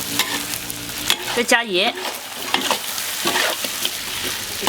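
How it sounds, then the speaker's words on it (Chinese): Duck sizzles and scrapes in a hot wok as it is stir-fried with oyster sauce and dark soy sauce, the spatula clattering in loud, busy bursts while someone speaks briefly. "我加点蚝油和酱油，老抽啊，给它炒一下"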